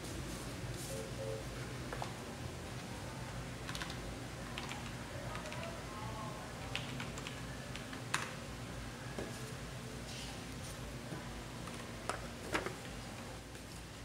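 Faint typing on an IKBC E401 mechanical keyboard, with scattered soft key clicks at an uneven pace over a steady background hiss while a password is entered.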